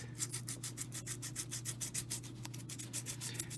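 Steady rhythmic scraping of sandpaper rubbing against metal, quick even back-and-forth strokes, close and continuous with no talking.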